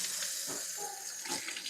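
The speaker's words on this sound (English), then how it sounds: "now we're going to rinse this off and out" A kitchen sink tap runs steadily while food is rinsed for a chicken fajita pasta, a close continuous hiss and splash of water, alone without talk.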